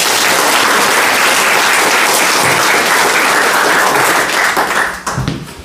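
A dense, loud crowd applauds at a Korean gathering with steady, sustained clapping that drops off abruptly near the end and leaves a few scattered claps.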